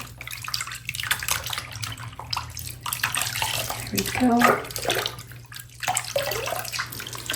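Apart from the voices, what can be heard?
doll dunked and washed in water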